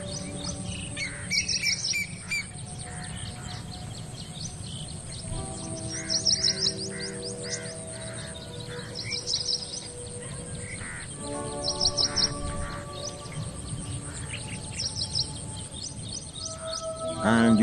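Common kingfisher at a lake in Telangana, giving sharp, high squeaky calls in short bursts, with other birds chirping and squawking nearby over steady outdoor ambience.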